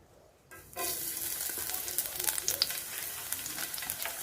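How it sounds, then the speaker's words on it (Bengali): Chopped garlic hits hot oil in a wok and bursts into a loud, steady sizzle after a brief quiet start, crackling and spitting close by for several seconds with no talk. "কড়ার মধ্যে কিছুটা তেল দিয়ে দিয়েছি এবার দিয়ে দেব রসুন কুচি"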